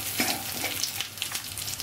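Eggplant with turmeric powder sizzles and crackles steadily in hot oil while a spoon stirs it around the pan, close and continuous with soft scraping, no voices.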